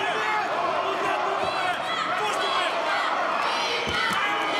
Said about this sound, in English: Crowd coming alive here for Sirbu.